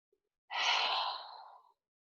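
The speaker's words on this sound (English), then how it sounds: "Breathing in and breathing out." A single long breath during a gentle low-back yoga sequence, a soft breathy rush lasting about a second, heard close and alone against silence.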